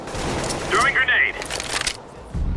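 A thrown grenade blasts in a video-game firefight, a loud crack-and-boom burst mixed with gunfire and a short whistling whoosh, all heard under a voice speaking over it.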